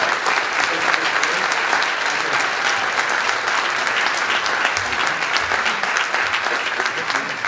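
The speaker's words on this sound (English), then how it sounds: "give a great round of applause for Grace Schakowsky" Sustained applause from a sizable crowd, dense and steady throughout without pause.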